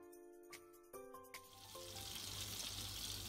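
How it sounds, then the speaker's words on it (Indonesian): Spices sautéing in margarine for grilled sausage seasoning: after a few light clinks and taps, a steady bright sizzle swells and holds loud and close to the end, with no talk. "Kemudian tambahkan lagi margarin untuk menumis bumbunya."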